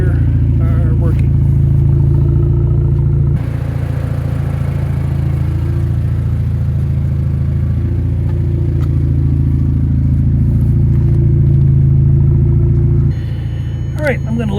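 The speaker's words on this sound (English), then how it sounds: "I'm going to let it sit here and idle for another 5 to 10 minutes" A 2009 Audi TTS engine idles steadily and close, a low, even hum that runs throughout while someone talks over it.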